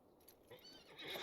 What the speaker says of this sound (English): We'll get on a regular old horse.